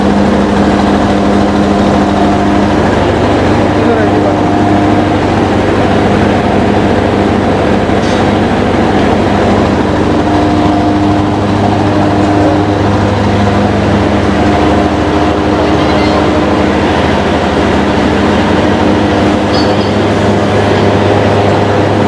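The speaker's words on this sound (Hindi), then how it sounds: "बिल्कुल छोटा ट्रैक्टर, इसको बड़े आराम से चला रहा है" A 2024-model rice thresher machine from Faisalabad, powered by a small 35 hp tractor, runs with a steady, loud mechanical drone and engine hum that stays constant from start to finish.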